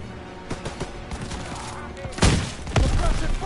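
Gunfire in the World War II shooter Call of Duty WWII on Veterans difficulty, a loud crackling barrage with heavy booming blasts toward the end, dense and close amid battle noise.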